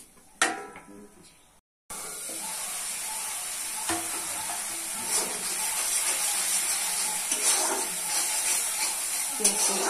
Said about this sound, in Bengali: দিচ্ছি লবণ, দিচ্ছি জল, ভালো করে কষে নিতে হবে।